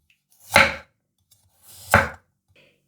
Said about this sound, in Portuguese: Mais ou menos 50 gramas de cenoura. E é só cortar assim bem fino